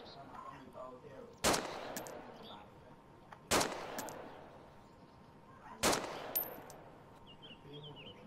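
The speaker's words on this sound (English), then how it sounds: "Let's take shots on the guy on the roof." Three loud, sharp rifle shots in the video game DayZ, fired about two seconds apart and trailing off in a short echo over faint background ambience.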